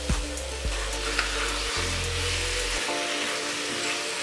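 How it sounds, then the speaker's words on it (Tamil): Chicken and masala fry steadily in hot oil, a continuous close sizzle with low thumps from stirring, no voices present. "இது எல்லாத்தையும் நல்லா எண்ணெயிலேயே ஃப்ரை பண்ணிக்கோங்க"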